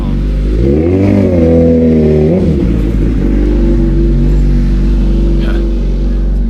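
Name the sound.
motorbike riding past outside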